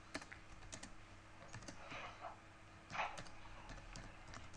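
Someone types code on a computer keyboard, a quick, soft run of irregular key clicks in a quiet room, with a couple of slightly louder key presses.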